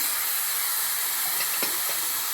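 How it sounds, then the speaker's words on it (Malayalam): Chopped ivy gourd tipped into a hot pan for an egg stir-fry, producing a steady loud hissing sizzle throughout with a few brief crackles midway. "ഇനി അതിലേക്ക് നമ്മൾ നുറുക്കി വെച്ചിട്ടുള്ള കോവക്ക ഇട്ട് കൊടുക്കാം"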